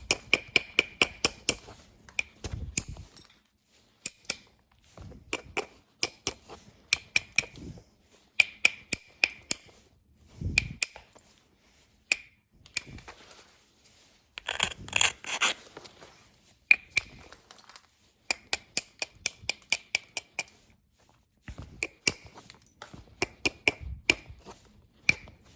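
An antler billet strikes stone during flintknapping, taking off tiny percussion flakes: sharp, close, glassy ticks come in irregular clusters and single hits, separated by near-silent pauses.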